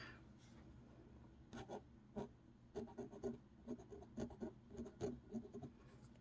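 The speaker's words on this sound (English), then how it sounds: "So I'm going to dip my pen in here and get it all nice and inky. And then I'm just going to write my name." Dip pen nib scratching across notebook paper, a quiet, close series of short rhythmic strokes and scrapes in bursts as letters are written, over a faint room background.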